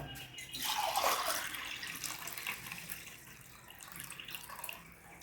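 Water pours steadily into a glass, a close, bright splashing stream that continues for a few seconds before tapering off.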